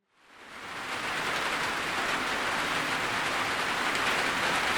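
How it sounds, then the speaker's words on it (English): Steady rain falls outdoors near a backcountry hut. A dense, even hiss fades in quickly and then holds at a constant level with no voices. "Are we still talking light rain though? Yeah, just light rain."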